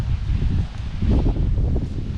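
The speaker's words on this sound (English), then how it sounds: "It's windy. Don't mind the wind." Strong wind buffets the microphone in low rumbling gusts, loud and continuous, with faint rustling underneath.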